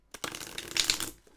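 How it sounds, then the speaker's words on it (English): A deck of flexible linen-finish cardstock cards is shuffled once, a quick close riffle of crisp fluttering snaps that rises and then trails off, with no talking. "I'm going to give these a shuffle because I haven't shuffled these yet."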